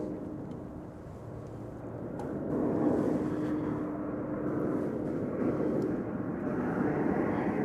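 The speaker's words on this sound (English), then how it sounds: "This is an Aeromexico Express, no, Connect. Aeromexico Connect, Embraer 190 coming in from Mexico City." An Aeromexico Connect Embraer 190 arriving at DFW Airport from Mexico City gives a steady, broad jet roar that swells after a few seconds and stays strong, heard from a moderate distance.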